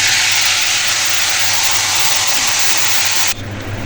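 Tamarind pieces dropped into hot oil with reddened minced garlic for a sweet-sour tamarind pickle, giving a loud, steady, broadband sizzle that holds throughout and dips slightly near the end, with no talking.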